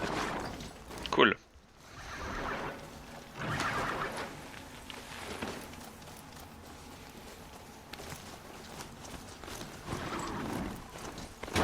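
Hooves clip-clop as a mount walks in the video game Horizon Zero Dawn, with steady footfalls under someone talking and a few louder rustling bursts.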